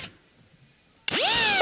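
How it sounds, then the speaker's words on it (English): A cordless power drill spins up loudly and revs with a rising whine while driving screws into a Gibson Explorer electric guitar, coming after a second of near-silence. "I can simply use the power tool."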